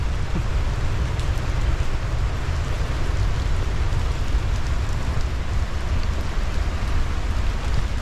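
Heavy rain pours down near Victoria Falls, Zimbabwe, in a dense, constant roar of drops, loud and unbroken throughout, with no voices.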